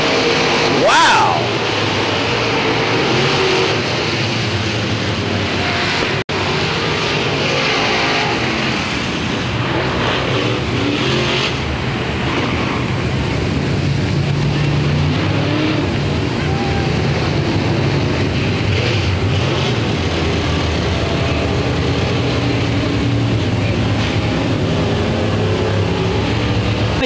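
Late model race cars roar around Crossville Raceway in a continuous loud engine drone that rises and falls as they pass, with an announcer talking over the racing.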